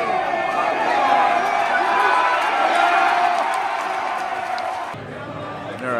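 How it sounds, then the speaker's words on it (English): Football crowd at a stadium roars and cheers in a loud, sustained wash of voices that ebbs slightly toward the end. "Crowd goes wild."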